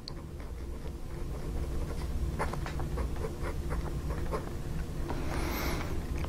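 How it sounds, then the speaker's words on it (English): An Esterbrook dip pen with a fine nib scratches across paper in short, light strokes, faint and close over a steady background hiss, with no voices. "So let's dip this and see how it writes"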